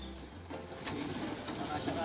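Racing pigeons cooing in a loft, soft low murmuring coos blended into a busy, noisy background, with voices heard faintly nearby.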